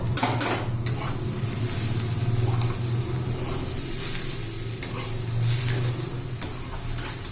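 Bitter gourd with crushed peanuts cooks in a pan. A spoon scrapes and clinks against the metal while a steady sizzle hisses underneath throughout.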